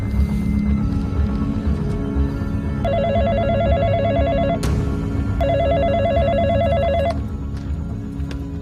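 A telephone rings in a scene from the Telugu-dubbed web series Ashram 2, two clear electronic ring bursts separated by a short pause over a low background hum.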